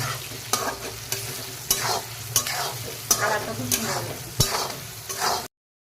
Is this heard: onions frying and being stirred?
yes